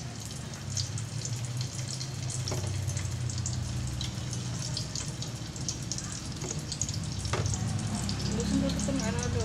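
Spinach leaves fry in hot oil for crackling spinach, with a loud, continuous close-up sizzle and scattered sharp pops and crackles that run on without pause.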